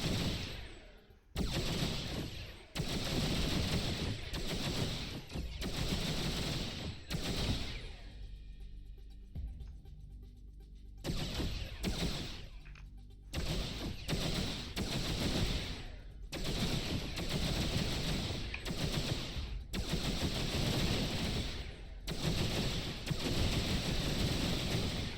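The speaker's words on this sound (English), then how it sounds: "There's some weapons fire over there, which is nice. So I'll have a nice 1v1 with this guy." Weapons fire in a space combat battle in the X3 Farnham's Legacy video game: loud rapid bursts of gunfire-like shots repeat across the scene, with a brief lull midway before heavy firing resumes.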